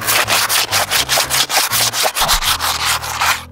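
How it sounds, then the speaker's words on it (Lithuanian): Wood coated with glue and a pasta filler being sanded by hand: steady, rhythmic back-and-forth rasping strokes, close and fairly loud, with no talking. "Nu ir tada šlifuoji."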